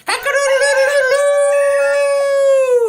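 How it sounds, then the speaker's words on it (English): A farm rooster crows once, a single loud, close cock-a-doodle-doo that rises sharply and holds a long, steady drawn-out call on its own. "The rooster, he makes a sound like this."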